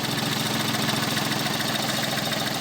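A Tata Tiago three-cylinder petrol engine idles steadily up close, a smooth, even hum with a faint regular pulse and no knocking, running alone without talk.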